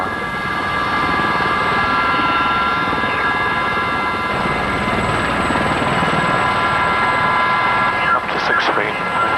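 A military training helicopter holds a hover close to the ground, its steady loud rotor and turbine whine filling the whole stretch, with faint voices underneath.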